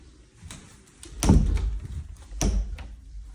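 A right-hand bedroom closet door in a flip house rubs against the frame as it is pulled open, giving two scraping, thudding bursts a second apart against a quiet room, close and moderately loud.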